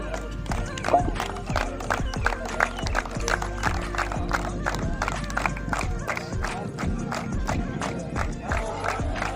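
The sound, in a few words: applause welcoming a guest at a hockey event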